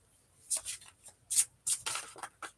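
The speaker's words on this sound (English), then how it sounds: "So I'm gonna give us a few shuffles." Several quick, crisp riffling bursts of playing cards being shuffled, close by, with brief pauses between them.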